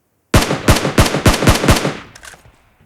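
Rapid bursts of automatic gunfire from PUBG Mobile ring out loud and close, six or seven sharp evenly spaced shots in quick succession before trailing into a fading echo.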